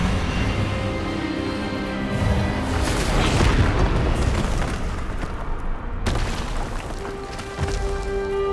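A loud, sustained magical blast from the Expelliarmus spell in Hogwarts Legacy swells with booming, rumbling energy, peaks midway and holds under a layered game soundtrack with a sharp break near the end.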